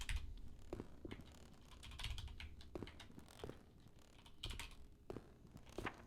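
Rapid computer keyboard typing during a Blood Typers speedrunning game session, a steady clatter of keystrokes with occasional louder bursts, heard alone without voices.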